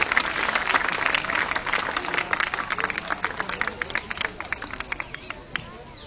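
An audience claps loudly at a school function as a principal is introduced, a dense burst of applause that gradually thins and fades over several seconds.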